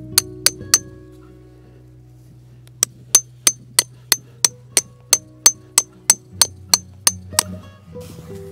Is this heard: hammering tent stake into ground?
yes